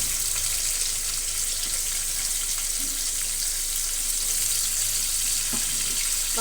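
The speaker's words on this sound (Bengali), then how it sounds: "চিংড়ি মাছটা একটু লবণ হলুদ দিয়ে ভাজা ভাজা করে দিয়ে তারপরে জিরে গুঁড়ো দিয়ে দেবো।" Prawns frying with salt and turmeric in a pan, giving a dense, even hiss that runs without a break, with a few faint clinks now and then.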